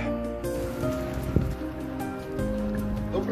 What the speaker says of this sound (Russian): на улице дождь идет